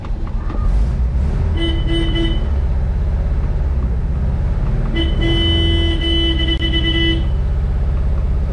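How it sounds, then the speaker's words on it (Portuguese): Two long blasts of the horn on a 1974 Volkswagen Brasília with a shorted horn circuit honk over a steady idling engine, the second blast longer than the first, loud and close. "Vamos ver se a gente consegue"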